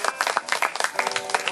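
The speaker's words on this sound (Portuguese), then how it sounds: "Palmas para o Senhor Jesus." A church congregation at an open-air evangelical service claps together in quick, uneven rhythm, a short lively burst of applause close by.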